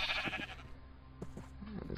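Sheep in a video game bleat a few times, short wavering calls spaced apart over a quiet background, with no talk.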